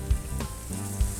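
Ingredients toasting in a hot pan, giving a continuous close sizzle with a couple of low thumps as the pan or spoon moves.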